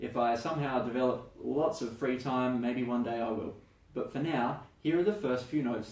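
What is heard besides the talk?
No everyday noises stand out.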